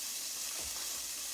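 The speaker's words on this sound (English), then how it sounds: "You hear that sizzle?" Onions sizzling in a pan on medium heat, a steady, faint frying hiss throughout with no talking.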